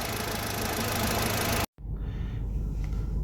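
An Audi A4 B6/B7 1.8T turbo petrol engine idles on a cold start, only seconds after firing up. It makes a steady, close, even-toned running sound that cuts out briefly in the middle and then resumes.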